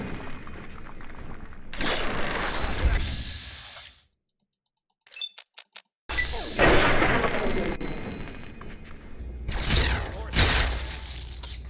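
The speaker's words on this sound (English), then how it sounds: "Oh, this guy got a plasma rifle." Plasma rifle fire in Fallout 3: loud, close bursts of sharp energy blasts with rattling mechanical crackle, broken by a brief near-silent gap with faint clicks before the firing resumes.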